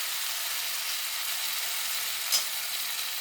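Masala yam pieces fry in a pan with a constant, hissing sizzle that stays even and close throughout, with one small click partway through and no talking.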